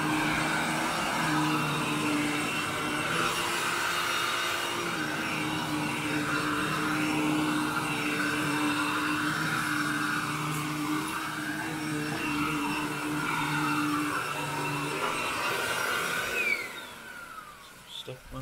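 A vacuum cleaner runs steadily and loudly during carpet pre-vacuuming for extreme dry soil removal, a continuous motor drone with a whine, then cutting out near the end.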